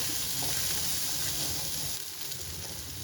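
Boiled, soaked and salted chickpeas frying in a pan, a steady, loud, continuous sizzle and crackle with no talking.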